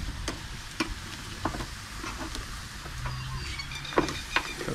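Chilli mud crabs fry in a pan with a soft, steady sizzle, broken by scattered clicks and scrapes as the pieces are flipped and moved around.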